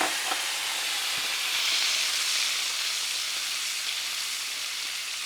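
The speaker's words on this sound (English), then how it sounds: "Now you want the wine to cook down some. So you're just gonna let it go like that." Wine sizzles and bubbles as it reduces in a pan for a scallop and garlic cream sauce, a loud, steady hiss throughout with no talk.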